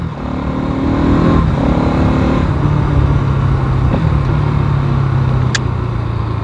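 A 2025 Bajaj Pulsar NS 200 motorcycle accelerates on a public road, its engine a loud, close, steady drone that rises and shifts pitch in stages as it moves through the gears, with no talking.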